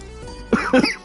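A man coughs close to the microphone in two quick, rough bursts lasting about half a second, with no talk over them.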